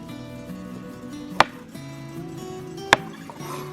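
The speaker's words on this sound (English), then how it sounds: "I'm going to start by chopping up the turnips and the radishes." A kitchen knife chops the tops and bottoms off fresh turnips and radishes on a cutting board: two sharp, isolated chops about a second and a half apart over a steady low background hum.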